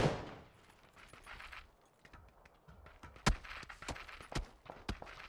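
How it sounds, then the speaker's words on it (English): Gunfire in the battle royale game PUBG crackles in quick scattered shots, a few sharp louder cracks standing out over a faint, low background rumble. "Now receiving fire."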